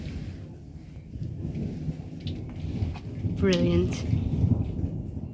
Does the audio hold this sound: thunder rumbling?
yes